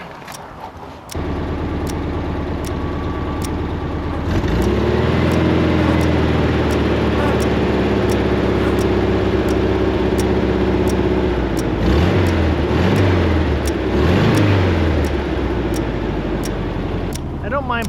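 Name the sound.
VW Bus engine starting, idling and revving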